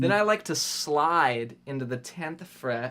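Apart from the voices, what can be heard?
No everyday noises stand out.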